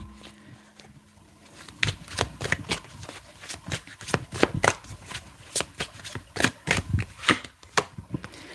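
Tarot cards are shuffled by hand at close range, a soft start followed by a fast run of crisp riffling flicks and slaps repeating for several seconds with no talk over them.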